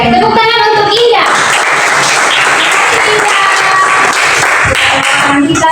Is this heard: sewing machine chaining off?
no